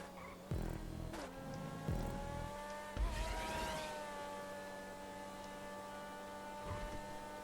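A race car in a racing video game drives steadily with a sustained engine drone and whining tones, a few thumps and bumps breaking in near the start and around the three-second mark.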